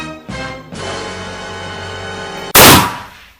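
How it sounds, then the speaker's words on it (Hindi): A loud, sharp blast from a homemade electric firecracker built from matchsticks goes off near the end, cutting through a steady buzzing hum that runs beforehand, then decays quickly. "इस एक्सपेरिमेंट में जो पटाखा यूज हुआ है वो फुली होममेड इलेक्ट्रिक पटाखा है"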